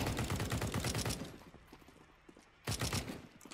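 Rapid gunfire in Counter-Strike 2, played on a 13-year-old GTX 470 graphics card: a dense automatic burst for about a second and a half, a quieter gap with scattered faint shots, then another loud burst near the end.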